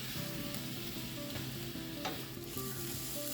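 Onions and peppers sizzle steadily in a hot pan as they soften, with a constant frying hiss and a few faint scrapes of stirring, close and even throughout with no talking.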